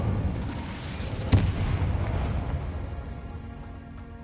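A fire spell cast in the video game Hogwarts Legacy bursts with a sudden sharp whoomp about a third of the way in, over a dense, rumbling backdrop of battle effects and music that fades slowly.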